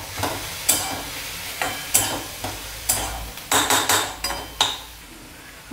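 Radish leaf bhaji stirred in a pan, a spoon scraping and tapping the metal in a steady rhythm of close strokes over a soft sizzle.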